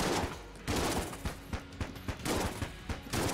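Rattler gun in the game Enter the Gungeon firing in quick repeated bursts, a dense crackling volley with sharp regular shots punctuating it, loud and close with no talking.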